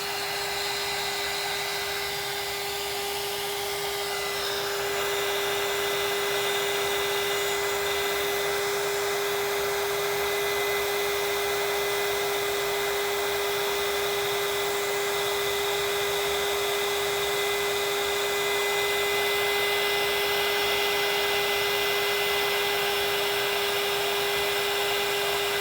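A handheld heat tool used for heat embossing runs with a steady, loud whirring blow and a sharp, constant electric whine, close up and unbroken from start to finish.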